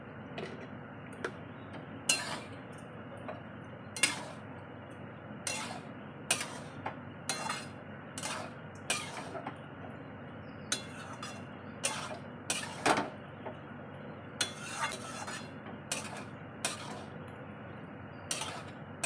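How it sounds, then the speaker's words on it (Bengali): Soybeans being stir-fried in a pan for a spiced bhuna dish, a spatula clinking and scraping against the metal in irregular, moderately quiet strikes over a low continuous cooking hiss. "এবার সয়াবিনকে ভালো করে কষে নেব।"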